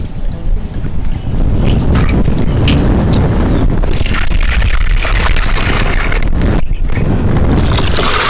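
Four litres of water poured into a tub for an asafoetida pest control solution, a loud continuous rushing splash with brief dips, heard alone without talk.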